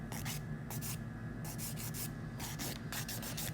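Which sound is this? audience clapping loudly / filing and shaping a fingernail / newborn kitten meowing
filing and shaping a fingernail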